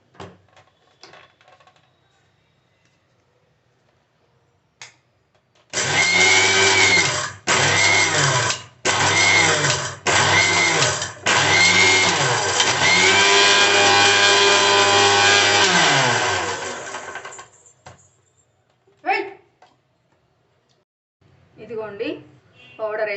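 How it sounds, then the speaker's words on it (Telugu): A loud mixer grinder whirs in several short bursts grinding mustard seeds, cumin and fenugreek, then runs continuously for several seconds before stopping; faint voices before and after. "ఆవాలు జీలకర్ర మెంతులు సో ఇవి వచ్చేసి మిక్సీ పడదాము"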